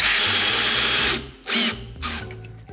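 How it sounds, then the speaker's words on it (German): A power drill drives a screw in to test a TikTok repair hack, whirring loudly and steadily for about a second, then giving two shorter bursts after a brief pause, with no talking. "Und schrauben nochmal eine Schraube rein"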